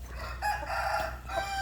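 A Burmese rooster in a garden pen gives a brief crow with clucking, close and fairly clear over a low background hum.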